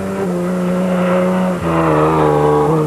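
A 1997 Dakar rally car races through the open desert near the end of a stage, its engine droning loud and steady with a brief dip and gear change midway before pulling hard again.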